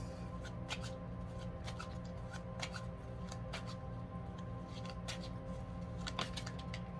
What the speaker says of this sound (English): One more shuffle, spirit said.